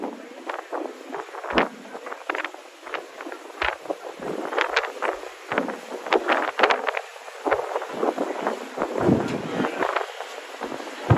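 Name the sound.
Sea Streak catamaran boat ride on water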